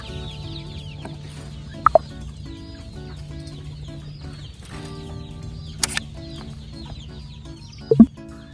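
Chickens cluck softly around a vegetable plot while pecking at green grass, a steady low murmur of fowl calls broken by a few sharp, brief knocks near the start, middle and end.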